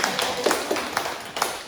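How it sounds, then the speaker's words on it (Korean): A small class group claps briefly for its leader and treasurer, a thin, uneven patter of hands at moderate distance lasting under two seconds. "자, 박수 한번 드릴게요."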